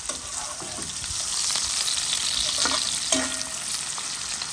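Onion frying in a pan gives a continuous crackling sizzle up close, with a few sharper clicks and stirring scrapes partway through.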